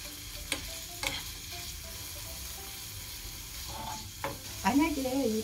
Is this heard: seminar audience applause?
no